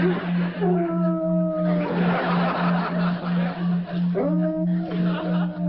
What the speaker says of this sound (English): Le chien de nos voisins, Duke.